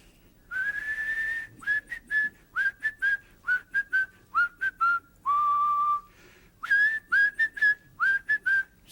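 A man whistles a lilting, wavering tune alone, in a run of short and sustained notes with brief pauses, close and clear over a quiet room.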